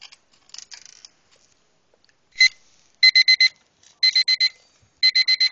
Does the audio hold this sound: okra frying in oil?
no